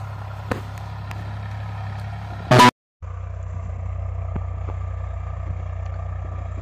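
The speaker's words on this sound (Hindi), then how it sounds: "बारह सौ चक्रों पर ट्रैक्टर चल रहा।" A Swaraj 744 FE tractor engine runs at 1200 rpm in a field with a steady, low, droning rumble. A loud burst and a brief dropout come midway, then the even engine tone resumes.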